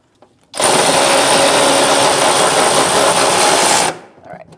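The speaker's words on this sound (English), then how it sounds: "I'm going to hold it with my ratchet and I'm going to snug this nut up, 15 millimeter socket" A powered ratchet with a 15 mm socket snugs a nut on the rear upper control arm of a 2016–2025 Chevrolet Malibu, giving a loud, steady whir for about three seconds before winding down.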